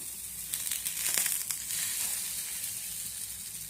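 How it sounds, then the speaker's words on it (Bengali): Egg-coated brinjal slices frying in oil in a pan, turned over partway: a constant close sizzle with a brief crackling flare as the slices are flipped. "এবার বেগুনগুলো অন্য পাশটা ভাজার জন্য উল্টে দেবো।"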